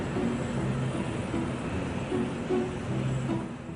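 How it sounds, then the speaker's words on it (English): A large cargo airliner comes in to land at Stansted Airport at 1 a.m., a steady, dense engine roar that holds evenly throughout with a faint low droning tone underneath. "the airline's biggest cargo plane is landing"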